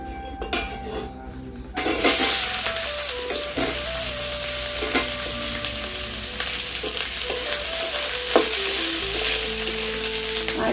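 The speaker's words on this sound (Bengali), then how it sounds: "আমি এখন পেঁয়াজটাকে ভেজে নিব" Onions frying in a pan, a loud continuous sizzle starting abruptly after a quieter opening, with occasional clinks of a utensil against the pan and no talk.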